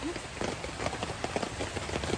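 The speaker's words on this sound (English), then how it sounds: "today is first day we're walking in the rain" Steady rain patters outdoors on a rainy hiking day along the Appalachian Trail, a broad continuous hiss with faint voices and movement mixed in.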